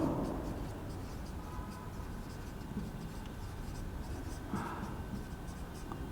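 Pen or marker writing notes on a board during a physics lecture on gravitation, a continuous scratchy rubbing over a steady background hum, fairly close, with no clear talking.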